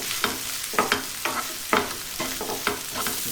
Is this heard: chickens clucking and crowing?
no